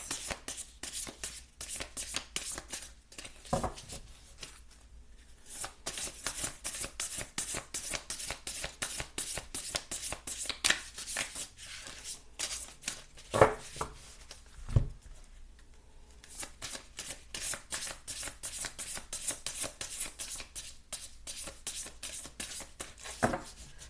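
Tarot cards shuffled by hand in quick, soft riffling bursts with brief pauses between rounds, close and fairly quiet, with no talking.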